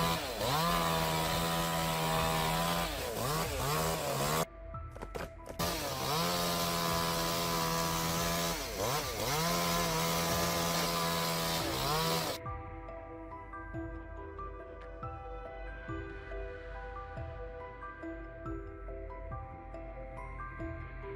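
A large chainsaw cuts through a giant tree, a loud steady whine with a pitch that rises and falls, briefly dropping out midway, then giving way to quieter mechanical sound.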